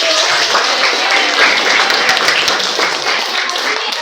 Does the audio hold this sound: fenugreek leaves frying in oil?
no